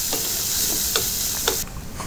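Crushed ginger and garlic fry in hot oil, a bright close sizzle with three or four quick ticks of a spoon, dropping suddenly quieter near the end.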